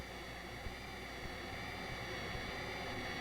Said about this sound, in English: Let's listen to how this jet noise can be altered when parts of it are filtered or removed.